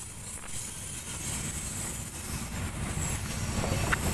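A CC206 locomotive passes a railway level crossing at JPL 5 Ambengan, Surabaya, in the late afternoon, a steady heavy rumble of engine and rolling wheels swelling slightly as it goes by.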